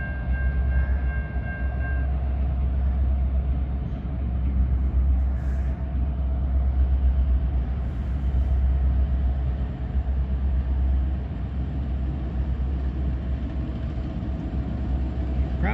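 A westbound Norfolk Southern freight train rolls steadily past in Princeton, Indiana, with a continuous low rumble of wagons and wheels. One short, faint horn note sounds early. No one speaks.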